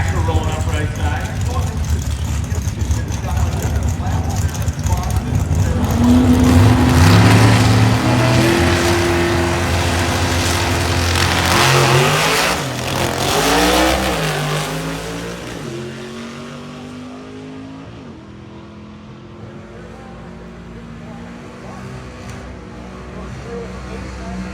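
Supercharged 1955 Chevy C/Gas gasser drag car rolling up at a drag strip, a loud rumbling engine revving and shifting pitch nearby amid crowd and track noise, with someone talking over it, fading lower toward the end.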